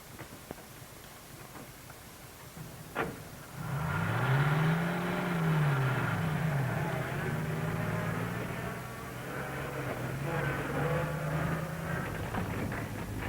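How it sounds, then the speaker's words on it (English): An old 1930s car engine revs and strains on a rough, rutted country road, its pitch rising and falling in long swells with rattles and bumps, no talking. "I'm driving this car."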